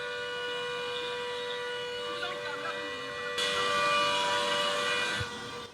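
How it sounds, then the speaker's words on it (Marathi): An air raid siren wails steadily during a mock drill at a school in Dadar, Mumbai, holding a sustained tone that swells louder partway through, with faint voices and background noise. "हा सायरनचा आवाज जो आपण ऐकतोय तो इतर कुठच्याही देशातला नसून तो मुंबईमधला आहे।"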